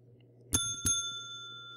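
Two bright bell strikes ring out in quick succession in Minecraft, each leaving a long, clear shimmering ring over a low steady hum, loud and close with no talking.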